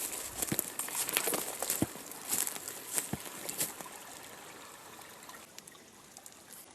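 A taiga stream trickles and splashes steadily over rocks, near and fairly loud, with crisp bright bubbling and occasional sharper drips throughout, no voices.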